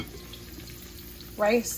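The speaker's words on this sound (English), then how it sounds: "Frying up right now." A brief burst of sizzling as rice and beans fry in a pan near the end, loud and close, following a quiet stretch of low background noise.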